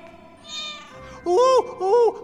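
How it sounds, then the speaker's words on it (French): An animated cartoon cat lets out two clear, loud, rising-falling meows in quick succession, following a brief softer vocal sound. "Un chat."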